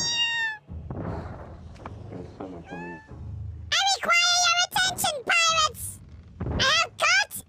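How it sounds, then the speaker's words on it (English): A pet cat in the pirate video game Sea of Thieves meows repeatedly, several loud rising and falling cries clustered in the second half, with a person talking in between and softer thumps underneath. "Cat, you are so annoying."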